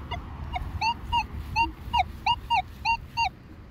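A Manticore metal detector gives a series of short, chirping electronic target tones, about ten evenly spaced beeps, over faint background rumble.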